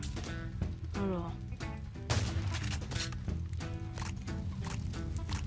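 Bursts of non-incendiary gunfire from the Flan's mod in Minecraft pop in quick repeated shots amid game sounds, with a voice talking over them.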